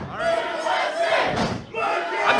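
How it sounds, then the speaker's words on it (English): A wrestling crowd at an IWE BattleZone show chants loudly for Mercury, a dense roaring wave of many voices rising and falling in rhythmic surges over a couple of seconds. "Hear those chants for Mercury?"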